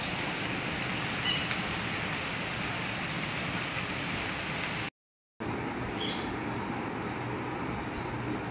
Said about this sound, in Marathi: मस्त रिमझिम पाऊस पडत आहे।